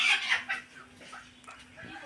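A hen on a farm gives a few short clucks up close at the start, then fainter rustling and scattered soft noises follow, with no voices.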